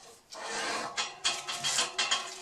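Lacquer coating is scraped off a wooden tool handle in short, rasping strokes, quiet and close, with several distinct scrapes following a longer opening pass.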